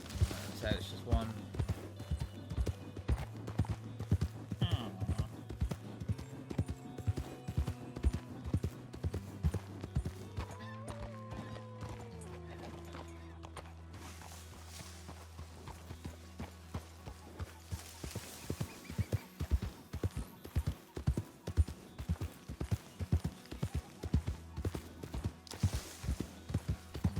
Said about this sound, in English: I thought I could hear a large amount of horses.